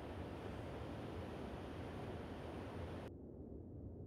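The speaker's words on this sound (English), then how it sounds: "For many, the sound of the sea has a relaxing effect." Sea waves wash steadily along the rocky southern coast of Tenerife, a continuous broadband roar with wind buffeting the microphone, then cutting abruptly to a duller hush near the end.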